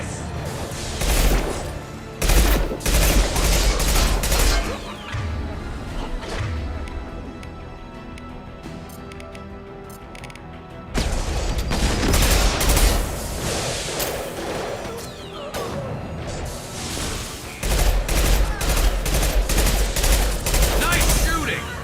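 Video game gunfire against heavy mechs: dense rapid bursts of automatic fire in three long loud stretches, broken by a quieter lull with a low hum.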